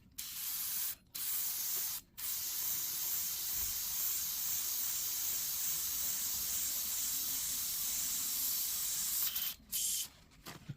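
An airbrush sprays thinner through a Gundam model kit painting setup, giving a steady close hiss in several bursts with brief pauses between them.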